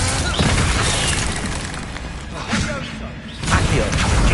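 Blasting spell explosions and magic impacts in the video game Hogwarts Legacy, loud booms and thuds that come one after another over continuous combat noise, with a voice shouting spell names.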